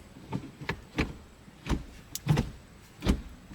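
A series of short mechanical clunks and clicks, about six of them spaced unevenly, as a modified 2019-23 Toyota Corolla gear lever is shifted firmly through its positions.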